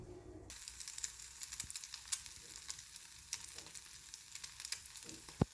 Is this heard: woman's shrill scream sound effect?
no